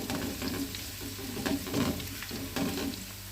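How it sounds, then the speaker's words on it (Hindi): Ginger and garlic fry gently in a pan for Punjabi-style sarson ka saag, a soft continuous sizzle broken by a few louder crackling bursts as they are stirred, with no voices. "अदरक लहसुन भी हमारे फ्राई हो गए"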